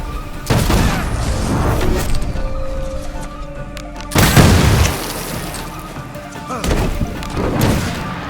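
Heavy explosions from special ammunition in Assassin's Creed Shadows boom out loud and close, a deep blast near the start and a bigger one midway, with further thuds and rumbling debris between them.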